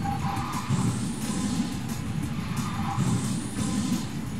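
Maserati MC20 Cielo drifting in the mobile racing game QQ Speed Mobile, a continuous loud engine drone with repeated rising tire squeals and whooshes across the whole stretch.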